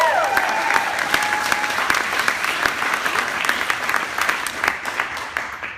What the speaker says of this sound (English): I didn't plan for that applause